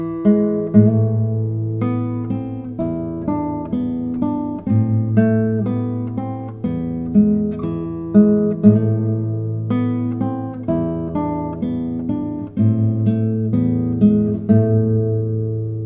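Solo classical guitar plays the first part of Giuliani's Écossaise Op.33 No.4, a light, steadily paced dance tune with clear plucked melody over bass notes, close and alone without talk.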